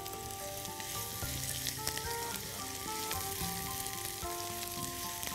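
Onion frying in a pan while being stirred, a constant close sizzle with light scraping turns and no voices.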